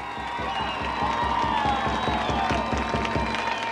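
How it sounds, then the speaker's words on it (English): Crowd cheering and clapping at the 1990 Class D2 state high school football championship between Falls City Sacred Heart and Palmer, a loud, steady roar with continuous applause throughout. "Listen to this cheer."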